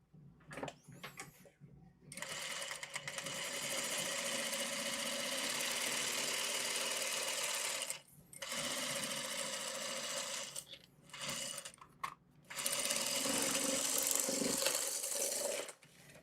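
Sewing machine stitching steadily in long close runs, its motor whirring loud with brief stops and restarts between passes.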